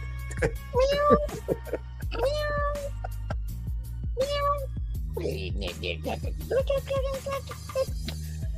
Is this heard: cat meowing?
yes